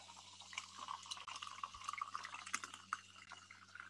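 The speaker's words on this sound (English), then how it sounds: "the pouring of the soda water" Soda water poured into a glass of ice gives a faint, close fizzing crackle with scattered tiny pops and drips, over a low steady electrical hum.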